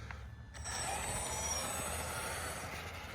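Hosim X16 RC truck running, a steady broadband electric motor whine with gear and tire rumble that swells in after a brief quiet start and holds loud and continuous.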